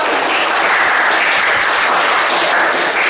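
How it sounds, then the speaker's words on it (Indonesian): A classroom full of students claps together, steady dense applause filling the whole moment at high loudness without a break. "Ya, tepuk tangan kalian semua."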